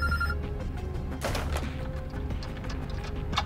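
In the video game Road 96, a telephone rings with a bright, repeating electronic bell tone over a dense, low rumbling game background.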